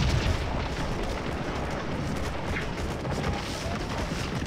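Massed musket gunfire in Scourge of War: Gettysburg from the 42nd Mississippi line, a dense, continuous crackling roar of overlapping shots with heavy low rumble, steady and loud throughout with no clear pauses.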